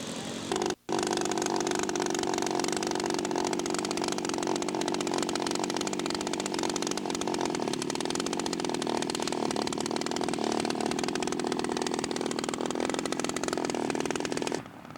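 Scale model aircraft engine running continuously at a steady high-pitched drone while taxiing into position at a scale aircraft show, loud and close after a brief cut near the start, with no voices.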